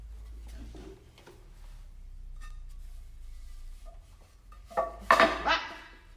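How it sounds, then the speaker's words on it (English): A big ceramic plant pot set back into a macrame hanger, with soft handling rustles followed by a few close, sharp clinks and knocks near the end. "Let me put this big pot back in."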